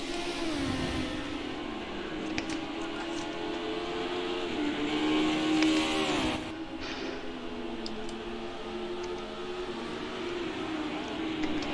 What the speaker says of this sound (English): Could hear the Cosworth going down the road in my headset